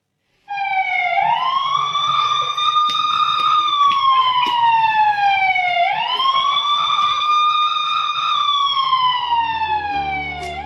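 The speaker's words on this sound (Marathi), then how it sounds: "हा सायरन आहे विद्यार्थ्यांना अभ्यासाची आठवण करून देणारा" A loud village siren wails steadily, rising and falling in two long sweeping cycles, sounding close and continuous with no other sounds over it.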